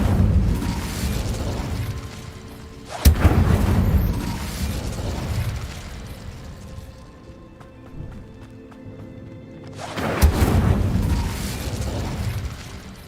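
Two sharp fiery blasts from the Incendio fire spell in Hogwarts Legacy, each a loud sudden burst that trails into a crackling roar, spaced several seconds apart over a low mechanical game ambience.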